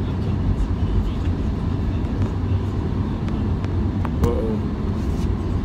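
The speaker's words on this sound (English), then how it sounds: "My car is riding a little different right now because I need some air in my tire." Car driving on the road with a tire low on air, heard from inside as a steady loud road and engine rumble with a faint brief squeak near the end.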